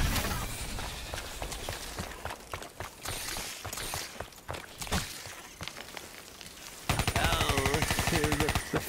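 Repeated gunshots crack out in Call of Duty Black Ops 3 Zombies, a mix of single shots and rapid bursts with footsteps and game effects, ending in a louder sustained volley.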